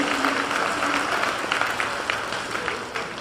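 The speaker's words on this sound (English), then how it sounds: "So let's give our donors a round of applause." A convocation audience claps steadily for donors at an awards ceremony, a moderately distant, even wash of applause with no break.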